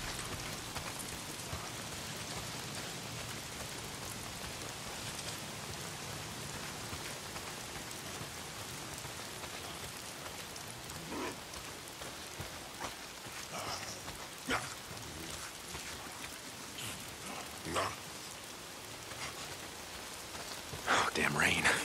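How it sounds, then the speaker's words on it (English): Steady rain pours in Days Gone, a dense hiss of drops on surfaces throughout, with occasional louder patters and bumps and faint distant rumbles mixed in. "If it's not the freaks, it's the goddamn rain."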